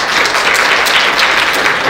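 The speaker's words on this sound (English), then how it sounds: "Let's give them a round of applause here." Dense applause from an audience at a spelling bee, loud and continuous clapping throughout the short stretch with no talking.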